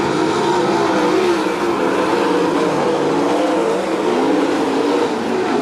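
Sprint cars racing on a dirt track at the Brad Doty Classic, a loud continuous engine roar with overlapping wavering pitches as the pack circles, no gaps or quiet moments.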